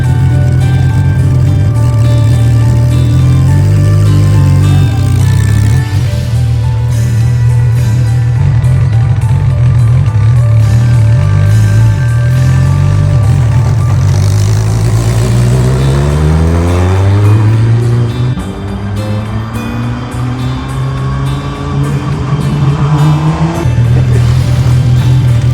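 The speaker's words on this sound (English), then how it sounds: "the sound is great, and it's primarily coming from the exhaust anyways" Loud car exhaust roars through repeated revving and gear changes, the pitch climbing and dropping in long sweeping runs with a brief lull near the middle before building again; no talking.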